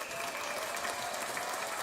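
An audience applauds with steady, dense clapping that fills the whole moment at moderate volume.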